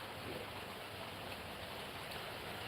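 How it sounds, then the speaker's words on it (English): Rain drums on a roof as a dense, even hiss with scattered patter, steady and fairly soft throughout with no voices. "A little bit more rain. It's amazing, barely any of it reaches the ground. You can hear it hitting the roof"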